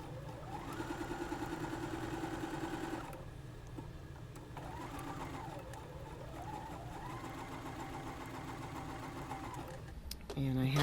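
Quilt pieces feed through a sewing machine with dual feed engaged at a 2.0 stitch length, a steady mechanical whir running close and continuous, then a pause where a voice speaks and the motor settles.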